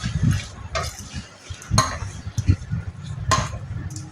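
A spoon scrapes and stirs in a pan where mint thuvaiyal is cooking with turmeric and salt, with close clinks and scraping at an irregular rhythm over a faint frying background.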